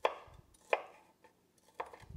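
A knife chops ham into pieces on a cutting board, three separate sharp, close knocks with short quiet gaps between them, soft overall and heard without talk.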